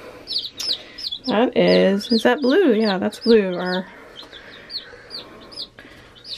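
Baby chicks chirp and cheep in quick, high peeps close by, with a few clucking sounds, while people talk over them briefly.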